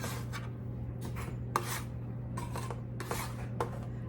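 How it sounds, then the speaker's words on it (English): Freshly baked buttermilk biscuits shifted off a metal baking pan onto a cooling rack, giving a series of scraping, rubbing metal strokes in irregular bursts over a steady low hum, close and moderately loud, with no talking. "I'm gonna put them out here on this cooling rack."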